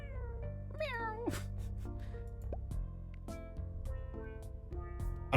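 A cartoonish cat meows several times in a video game, with gliding tonal mews over game music and soft drip-like sound effects.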